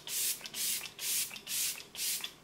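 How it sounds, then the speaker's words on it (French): Five quick hissing bursts of e.l.f. Dewy Coconut Setting Mist sprayed onto a face, each pump a loud, close, airy spritz followed by a brief pause. "On va finir avec la Dewy Coconut Setting Mist de ELF. J'aime bien ce spray"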